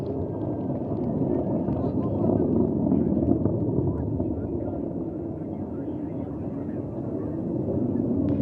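Soyuz booster rocket climbing through maximum dynamic pressure during the Progress 84 cargo launch from Baikonur, a steady broadband roar with a broadcast voice talking over it.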